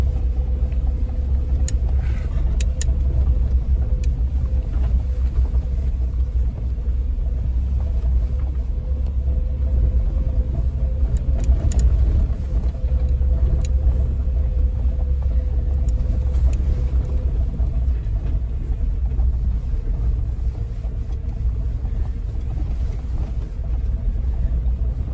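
Suzuki Jimny off-roading through deep water, a continuous low engine rumble close by with occasional splashes and knocks over about 25 seconds.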